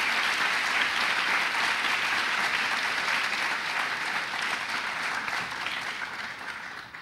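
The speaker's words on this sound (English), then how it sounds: "Please give him a warm round of applause for organizing this." Warm audience applause at a university college debate forum, dense steady clapping from a seated crowd that tapers slightly toward the end.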